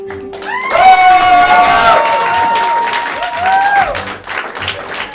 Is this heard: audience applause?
yes